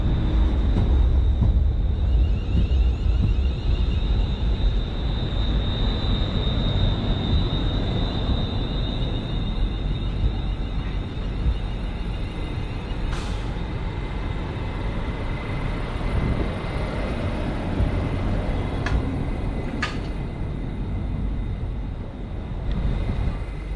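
British Rail Class 380 train 380-007 on the Wemyss Bay line in the UK makes a loud, steady interior rumble and roar with a faint whine, plus a few brief clicks partway through.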